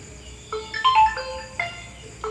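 A phone ringtone sounds for an incoming call, a short series of bright electronic melodic tones rising and falling in two bursts, fairly quiet and alone, with no talk.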